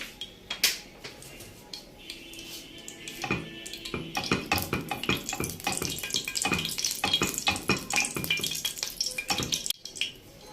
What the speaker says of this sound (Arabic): والسمنه بتسيح معايا انزل بشويه زيت عشان الزيت بيخلي الرز معانا مفلفل